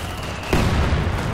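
A heavy mortar fires in Company of Heroes 2, a single dull thump that breaks out of a constant battlefield rumble and settles into a low, ongoing roar.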